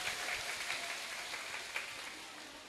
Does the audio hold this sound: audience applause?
yes